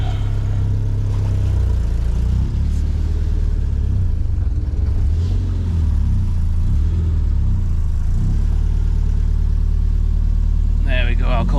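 A Triumph Spitfire 1500 engine idles with a loud, steady, low rumble throughout, while a person talks over it.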